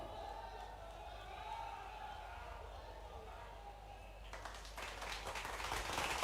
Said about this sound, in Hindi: जोरदार तालियां देवियों सज्जनों